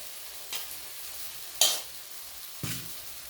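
Potatoes are tossed into spices in a pan for a light eggplant, potato and fish curry, giving a soft sizzle punctuated by three distinct stirring scrapes, the middle one sharpest.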